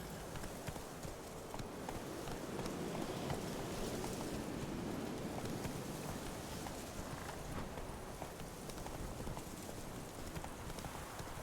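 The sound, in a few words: horse hooves trotting, from video game The Witcher Wild Hunt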